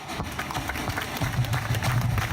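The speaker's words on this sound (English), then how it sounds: "He's not happy with the clapping" Hands clap in a steady patter against a constant crowd murmur at an outdoor cultural event, the claps growing denser and louder partway through, with voices mixed in.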